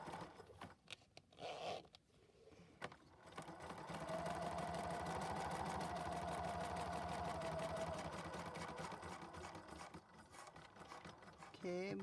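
A sewing machine stitches along a zipper for a crafting project, a steady continuous mechanical whir running for several seconds in the middle, with brief handling noises before and after.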